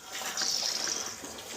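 Water hissing and rushing steadily through the hoses of a Watts TK9A backflow test kit while air is bled from a Febco 850 double check valve, a continuous close gushing.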